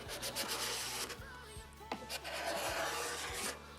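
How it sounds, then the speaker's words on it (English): A big, wide scraper is pushed by hand across the top of an old wooden table over a century old, making close, rough rasping strokes in quick succession. "put your palm behind it and use it with a big scraper"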